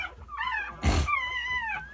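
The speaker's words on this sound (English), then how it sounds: "Here's my pit bull, China." A pit bull mother with thirteen newborn puppies whimpers in high, wavering whines close by, broken briefly by a rough snort or shuffle, with no talk.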